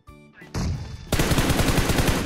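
PUBG Mobile gunfire on a PC emulator: rapid automatic shots ring out loud and close, quickening into a dense burst of sustained fire.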